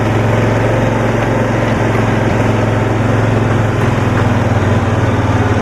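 Engine of a 1972 Cushman pickup running in first gear at full throttle, a steady, loud, droning hum held close up without rising much in pitch and with no speech.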